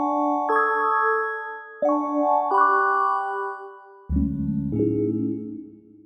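Bell-like tones from an Arturia Synclavier V synth play a short arpeggiated pattern, shifting between ringing note clusters and dropping lower near the end, with no voices.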